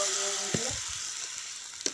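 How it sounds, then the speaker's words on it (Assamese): Dal hits hot oil for tempering and sizzles loudly up close, with a few stirring clicks and scrapes as the hiss slowly fades. "দাইলখিনি তেল মাৰি দিওঁগৈ"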